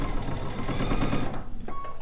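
A sewing machine runs a 1 centimeter seam for a bucket hat, giving a rapid, steady mechanical whir of stitching up close that stops abruptly near the end, followed by a faint click.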